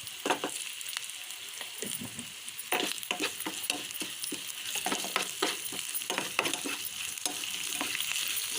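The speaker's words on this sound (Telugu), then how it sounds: "ఇవి ఒక వన్ మినిట్ ఫ్రై అవ్వనివ్వాలి" Cloves, turmeric and ginger-garlic paste sizzle and crackle in hot oil in a pan, with repeated stirring scrapes and clinks throughout, close and steady.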